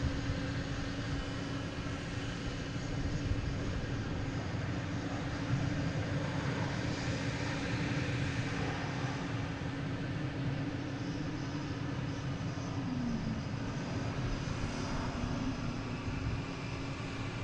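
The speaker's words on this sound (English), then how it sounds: "We got an American landing, it looks like, as well" An American Airlines jet airliner landing at Boston Logan International Airport gives a steady, broad engine roar that holds evenly throughout without voices.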